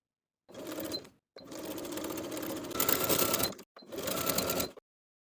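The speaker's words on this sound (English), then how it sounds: "Sew the neckline once more with a 3/8 inch seam allowance" A sewing machine stitches a blouse neckline with binding in three bursts, a short run, a long steady run and a final one, separated by brief pauses, close and clear with no talking.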